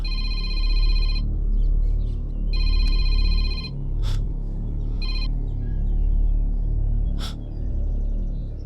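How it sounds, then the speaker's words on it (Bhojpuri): A telephone rings in short repeated bursts of electronic trills, separated by pauses, with a low steady hum underneath; an international call from London. "सिंह साहब लंदन से फोन आयल बा।"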